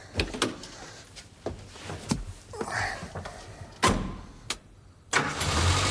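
A car engine cranks and catches after a fix to a sticking needle valve, preceded by several sharp knocks and clunks, then the motor settles into a steady running sound close by.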